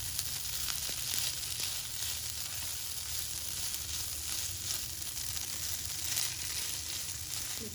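Boiled chicken tossed and frying in hot oil for a mini Alfredo pizza, making a steady, even sizzle throughout with faint stirring, moderately quiet and close, and no talking.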